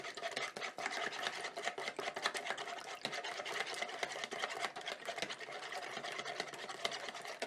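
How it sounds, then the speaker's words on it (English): Two eggs beaten with a whisk for waffle batter, giving a fast, steady clatter of wire against the bowl that runs close and continuous throughout, with no talking. "take your whisk and lightly beat together your 2 eggs"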